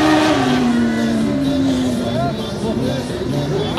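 Race cars at a French mono racing final at Saint-Germain-d'Anxure roar past on track, a loud sustained engine note sweeping downward as they pass, with a commentator talking over the noise throughout.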